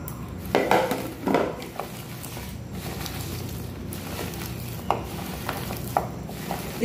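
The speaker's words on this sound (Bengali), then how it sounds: "খেজুরটাকে আমি এখন আটি ছাড়িয়ে নেব, ভালো করে চটকে আটি ছাড়িয়ে নিচ্ছি" Ripe tree-ripened dates being squeezed and mashed by hand to free the pits, with soft squelching mixed with a few louder clinks of a bowl or utensil, close and fairly quiet, no talking.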